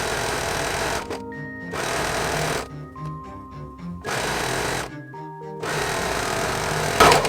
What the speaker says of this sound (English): So that's all the overlocking done on this one.